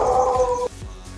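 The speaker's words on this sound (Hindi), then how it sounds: "मम्मी तो कुत्ते आ रहे" A dog howls loudly and close by in a drawn-out, steady wail lasting over half a second before stopping abruptly, leaving a low background murmur.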